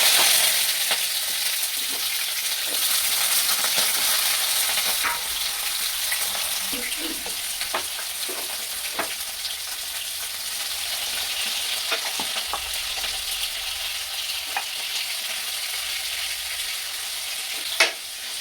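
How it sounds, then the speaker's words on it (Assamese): Jackfruit pieces fry in a pan with a steady, close hiss of oil, broken by occasional sharp clicks and scrapes as the food is moved about. "মই প্ৰথমতে কঁঠালখিনি ভাজি ল'ম"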